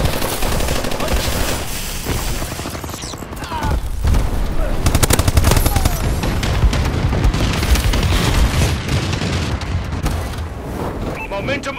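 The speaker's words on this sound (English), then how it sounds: "Enemy bombing run overhead." Dense video game battle din with rapid machine-gun bursts, booming blasts and heavy explosions under an enemy bombing run overhead, loud and continuous throughout, with voices talking over the chaos.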